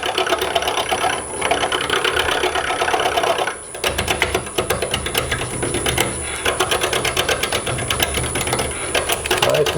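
A machine spinning at about 500 RPM while a metal key ring part is rounded over, a steady close whirring hum with a constant high whine and fine rhythmic chatter, briefly dipping once before resuming.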